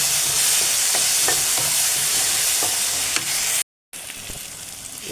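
Blended tomato sizzles loudly in a pan of sardine curry with kanthari chillies as a spoon stirs it, scraping in a steady rhythm, with a brief cut near the end.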